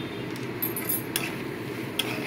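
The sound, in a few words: stirring the cooking dish in a pan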